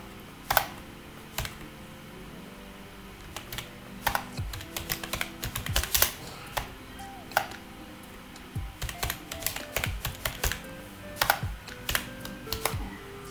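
Java code is typed on a computer keyboard in the Eclipse IDE, with close, crisp key clicks coming in irregular bursts and short pauses, louder individual keystrokes punctuating the steady run.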